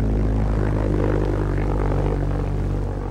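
A WWII fighter, a Spitfire or Hawker Tempest, drones steadily with its piston engine and propeller, a loud, unbroken roar that fills the whole three seconds with no voices.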